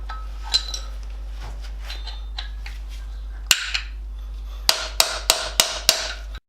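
Hammer blows on a chisel driving out a wheel bearing race on a Classic Mini front hub: faint taps early, then one sharp metallic strike and a rapid run of five loud, ringing hits near the end.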